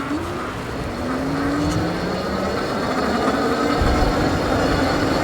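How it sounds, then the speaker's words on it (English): A Hovsco HovAlpha electric bike's hub motor, driven on thumb throttle, gives a steady whine that rises in pitch as it accelerates, under rushing wind noise, fairly quiet and continuous. "The motor is fairly quiet, a little bit loud when it starts to pick up speed, and then it just levels off."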